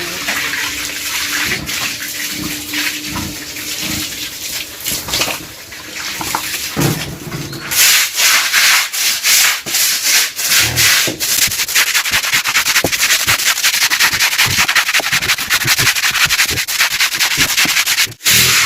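A stiff brush scrubs a wet pigsty floor in rapid rasping strokes, with water sloshing and running throughout, growing louder and more vigorous partway through.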